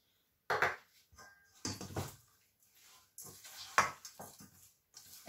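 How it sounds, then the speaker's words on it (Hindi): Chicken pieces being mixed by hand in a bowl with ajwain, garlic powder, lemon juice and oil, giving close, irregular clattering and squelching bursts separated by short pauses, with no talking. "अच्छे से मिक्स करना है।"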